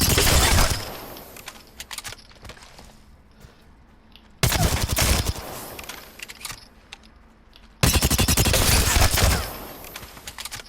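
A video game gun fires with iron sights and no attachments in three loud bursts of rapid automatic shots, each followed by quieter clicking and rattling handling sounds between them, no talk.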